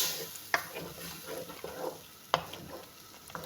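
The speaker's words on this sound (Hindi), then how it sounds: "हम इसको फ्राई करते चले जाएंगे।" An egg and potato curry fries in a pan, with a soft, continuous sizzle and scraping stir strokes, including a couple of sharper clacks of the spoon against the pan, close and quiet, without speech.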